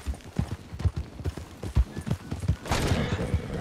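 Horse hooves clip-clop in the Western video game Red Dead Online, a quick uneven run of close, loud hoof strikes followed by a burst of rougher noise near the end, with no talk.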